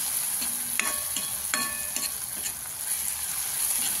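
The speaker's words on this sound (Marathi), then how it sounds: "बघा, किती छान असं सुगंध सुटेपर्यंत परतायचं आहे त्याला" Zunka, a village-style gram flour dish, sizzles steadily as it is sautéed in a pan, with a few clicks and scrapes of a spoon stirring it; no talking.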